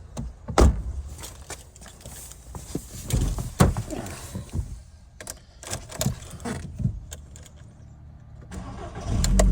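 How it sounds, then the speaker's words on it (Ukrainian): A used car's engine is cranked and fires up, then settles into a steady idle, with a few door clunks and handling knocks nearby; the idle hum is moderate and close throughout. "Отак воно заводиться."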